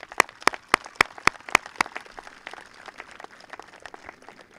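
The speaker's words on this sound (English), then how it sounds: "one more round of applause." Clapping at a 2021 school graduation: several loud, sharp, evenly spaced claps close by, then a softer, scattered patter of many hands that keeps going.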